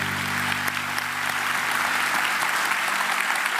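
A congregation applauds at a church service, a steady dense wash of clapping heard up close and continuous throughout, with a faint low hum from the hall beneath it.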